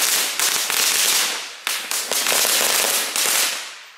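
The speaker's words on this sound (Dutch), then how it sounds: "Wil je een kappen met dat vuurwerk?" Firecrackers pop and crackle in rapid bursts in a street at New Year, loud sharp bangs following one another in quick irregular volleys, with echoing tails between them.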